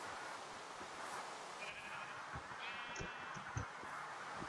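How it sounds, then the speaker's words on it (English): Sheep bleat in a woodland survival video game, with a few short bleats rising over a steady bed of ambient forest and game noise. "Hello, sheep."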